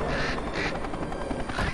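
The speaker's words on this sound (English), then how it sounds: "There go these annoying birds." Birds calling in the Alan Wake video game near a river, giving harsh, duck-like quacking cries in a few quick bursts over a steady background rumble, with no one talking.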